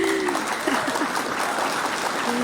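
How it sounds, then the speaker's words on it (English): A canned crowd applause effect triggered by a clap button during a live stream, a continuous dense burst of clapping with a faint voice murmuring beneath it. "Hit the clap button for that. Clap for that."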